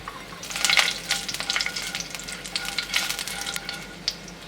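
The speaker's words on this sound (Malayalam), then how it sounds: "എണ്ണ ചൂടായി 1/4 ടീസ്പൂൺ ജീരകം ഇട്ട് കൊടുക്കാം" A quarter teaspoon of cumin seeds and asafoetida powder dropped into hot oil: a bright close crackling sizzle that swells in bursts and pops for a few seconds, with no voices.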